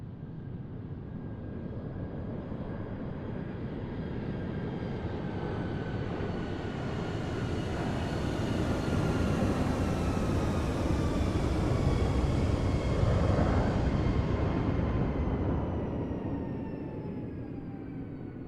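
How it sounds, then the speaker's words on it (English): A CRJ jet makes a flyby in Microsoft Flight Simulator, a steady roaring engine wash with high whining tones that swells toward the middle, sustained and loud, then eases slightly as it passes, with no voices. "Like hearing the CRJ flyby."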